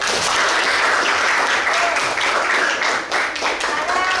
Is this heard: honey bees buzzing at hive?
no